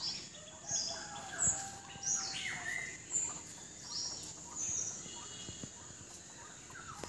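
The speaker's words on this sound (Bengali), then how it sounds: "আর পাখির আওয়াজ।" Several birds chirp and sing outdoors in the early morning, a steady chorus of short bright calls at moderate distance with faint insect buzzing beneath, no one speaking.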